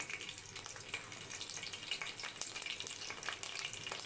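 Green chilies and curry leaves fry in hot oil for a chicken fry, giving a steady, fairly quiet hiss with faint crackles and soft scattered pops throughout, with no voices.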